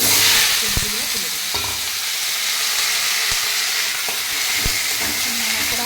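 Black mustard seeds and five-spice (panch phoron) sizzle steadily in hot oil, a continuous close frying hiss broken by a few sharp stirring clinks and taps, with no talking.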